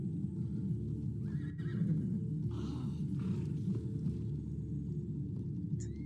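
Horses in Assassin's Creed Odyssey, a low rumbling drone of hooves and movement with a brief whinny-like cry, steady and moderately loud throughout, no speech.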